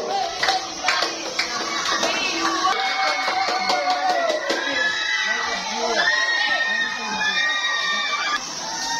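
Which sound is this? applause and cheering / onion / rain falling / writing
applause and cheering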